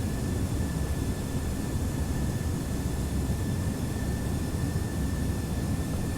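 Steady, loud engine roar of a Boeing 757 airliner flown in the Prepar3d v4 flight simulator, a continuous broadband cockpit drone with faint high whines, unchanging throughout with no voices.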